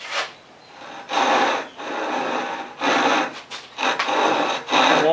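A Stanley FatMax pull saw's rough-cut teeth rasp through wood in four loud, coarse strokes, each a broad scraping burst separated by short pauses, heard up close with no talking.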